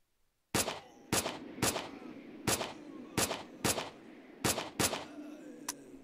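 Gunfire aimed at zombies in S.T.A.L.K.E.R.: Shadow of Chernobyl: about nine sharp, loud shots at an uneven pace, some in quick pairs, each with a short echoing tail over quiet background.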